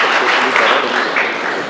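An audience at a health talk gives a short burst of dense applause, loud and steady with no break.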